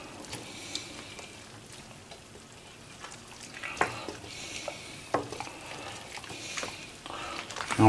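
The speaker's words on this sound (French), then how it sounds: "Un peu le tout mélanger, touiller un peu que ça se mélange." Sliced pork being stirred in a pan, soft steady sizzling with scraping spoon strokes and a few sharp clinks against the pot, close and fairly quiet.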